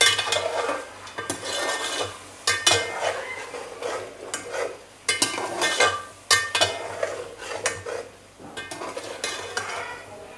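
Beef korma with chili and turmeric being fried and stirred in a pot, with repeated scraping and clinking of a utensil against the metal in an irregular rhythm over a soft sizzle, close and fairly loud, no voices.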